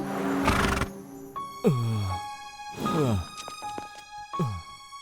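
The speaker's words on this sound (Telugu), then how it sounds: "మన గుర్రాన్ని గుద్దేశాడు" A racehorse gives several loud, close neighs and whinnies in short bursts with pauses between them. Faint tonal background sounds run underneath.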